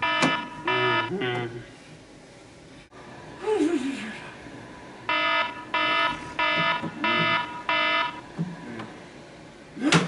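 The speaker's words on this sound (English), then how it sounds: "her alarm clock went off and she's late for work" An alarm clock goes off beside a bed, giving a short burst of electronic beeps, then a run of five evenly spaced loud beeps. Someone makes vocal sounds in between.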